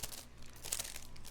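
Plastic packaging crinkles and tears as a keycap puller is pulled free, a brief close rustling crunch, quiet and alone.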